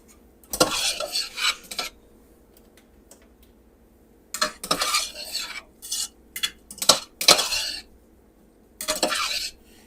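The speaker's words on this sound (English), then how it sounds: "We're going to get that all stirred up." A utensil stirs and scrapes food in a pan while cooking a Thai dinner, giving several bursts of clattering metal-on-pan scraping separated by quiet pauses.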